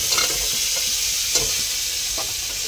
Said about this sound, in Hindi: तो प्याज अपना लाल हो गया है, अब इसमें टमाटर डाल दे रहे हैं